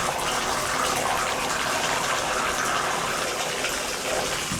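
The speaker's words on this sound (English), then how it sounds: "let's go ahead and turn on the lavatory faucet" Water gushing steadily from an opened lavatory faucet, a loud, continuous broadband rush close by with no pauses.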